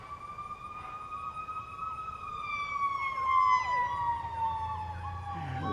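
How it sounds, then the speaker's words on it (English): Wailing fire truck and ambulance sirens sweep up and down, overlapping and rising in loudness as vehicles pass near a cemetery in Winchester, Virginia, with faint traffic rumble beneath. "There's a lot of fire trucks and ambulances"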